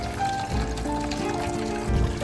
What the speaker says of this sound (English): Got the water flowing into the top bucket.